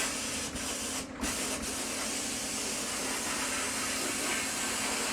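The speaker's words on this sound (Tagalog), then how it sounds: "buksan lang natin vacuum kasi buhangin yan. So, medyo maingay na" A vacuum runs during vapor blasting of sand-blasted Honda Click v1 scooter parts, giving a constant loud hiss over a low hum, with one short dip near the start.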